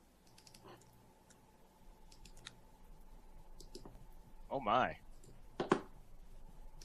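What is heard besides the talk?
computer mouse clicking on a link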